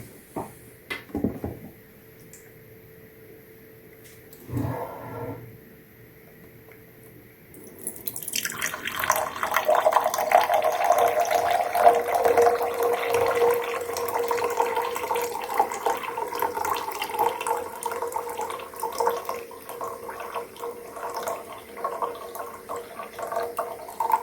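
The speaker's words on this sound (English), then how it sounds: "So we're going to get the water out onto this cup and then test it out." Water from a ZeroWater filter pitcher pours into a cup in a continuous, splashy stream lasting over ten seconds. A few handling knocks and clicks come just before it starts.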